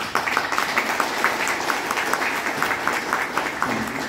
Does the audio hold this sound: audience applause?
yes